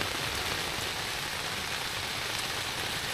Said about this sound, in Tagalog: Guys, sobrang lakas ng ulan.